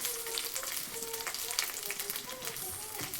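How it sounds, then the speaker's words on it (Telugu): Indian gooseberries (amla) fry steadily in a pan, giving a continuous soft sizzle with small crackles throughout, fairly quiet and close. "సో ఇదైతే ఫ్రై అవుతుంది."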